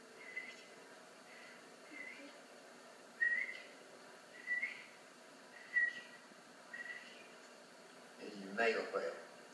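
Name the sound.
whistled imitation of hen quail call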